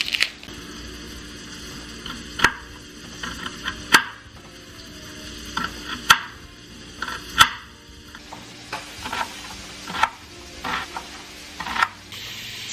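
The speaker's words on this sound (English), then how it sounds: "We're going to chop our small onion." A knife chops a small onion on a cutting board, giving sharp, separate cuts at an uneven pace over low kitchen background noise, with a cluster of quicker, softer cuts toward the end.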